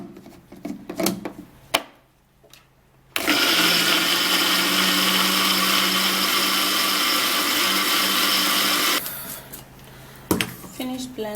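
A countertop blender grinds onion for a home eye remedy, running loud and steady for about six seconds. Brief clatter and handling noises come before and after the run.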